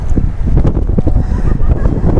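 Strong cold wind buffets the microphone at the top of a mountain in Hakone, Japan, a loud close rumbling gust that surges and drops in uneven bursts, with no talk.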